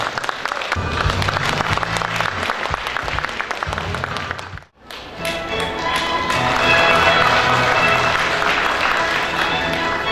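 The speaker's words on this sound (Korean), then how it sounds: "큰 박수 부탁드리겠습니다." Large audience clapping loudly and steadily at a Korean credit union ceremony honoring the chairman of a market credit cooperative, with dense sustained applause, a brief lull midway, then swelling back even stronger to the end.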